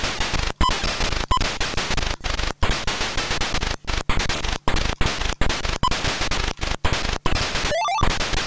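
Rapid, crackling synthesized shots from an MSX2 video game fire almost nonstop at close range, broken by short silent gaps, with a quick warbling electronic sweep near the end.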